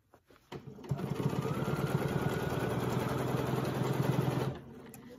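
A quilting sewing machine runs a diagonal line along a ruler, starting with a few clicks and then humming in a fast, even, steady stitch for about three and a half seconds before stopping.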